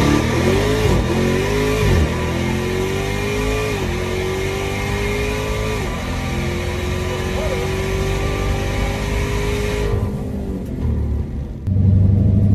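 A Dodge Demon 170 launching hard off the foot brake at the drag strip, a loud sustained engine roar and rumble climbing through the gears, then cutting off near the end as the car backs down.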